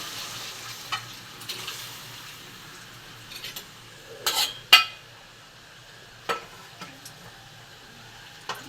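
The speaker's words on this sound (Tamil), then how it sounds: "இப்போ குடலை வேக வச்சுருக்கோம்லப்பா, நம்ம வந்து ஊற்றிடுவோம்" Boiled goat intestines for a South Indian offal curry land in a hot pan and sizzle, with sharp bursts of spitting near the middle. Quieter frying and the occasional clink of utensils carry on around them, and nobody speaks.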